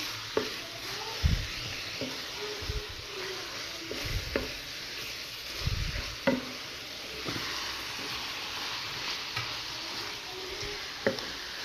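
Potatoes and onion sizzle in hot oil with a steady crackle, broken by intermittent scraping knocks as the pan is stirred, fairly close and moderate in level.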